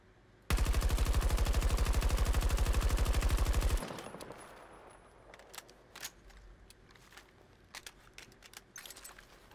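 Sustained rapid automatic gunfire from a Battlefield 2042 gun left to climb with rising recoil, one loud unbroken burst of about three seconds, then quiet clicks and handling noises of grabbing ammo and reloading.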